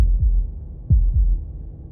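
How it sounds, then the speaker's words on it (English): Heartbeat sound effect in the video game Slay the Princess: deep, booming low thumps heard alone, with a single beat and then a quick double beat in an irregular throbbing rhythm. "That was the sound of a heartbeat"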